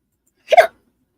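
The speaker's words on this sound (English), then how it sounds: "That was a hiccup." A single short hiccup, close and clear, in otherwise quiet surroundings.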